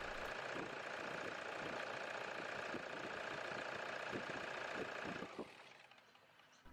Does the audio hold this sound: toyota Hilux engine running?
yes